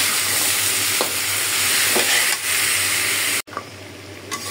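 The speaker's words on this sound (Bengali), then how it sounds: "এখন ভাজি হতে থাক" Duck meat frying in a pan with turmeric and salt, a continuous loud sizzle with stirring scrapes, broken by a short cut near the end before the sizzle resumes more quietly.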